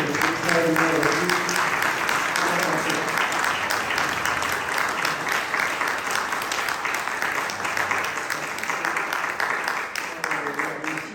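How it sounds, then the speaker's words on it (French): An audience in a lecture hall applauds two speakers, a long, steady burst of many hands clapping that holds for several seconds, with voices murmuring underneath at the start and end. "je vous propose d'applaudir nos deux intervenants"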